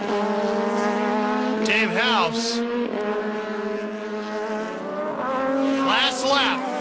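Star Mazda race cars at Portland International Raceway in 2008, including the number 86 car running off the track, drone and whine loudly, with engine pitch sweeping up and down twice under a race commentator's talk.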